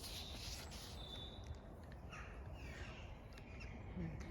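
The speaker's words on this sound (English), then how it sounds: "It looks like we've got lots of birds that are actually living in the old hall now." Crows and other birds caw and squawk faintly inside the roofless ruined shell of old Hardwick Hall, with scattered distant calls over a steady outdoor hiss and breeze.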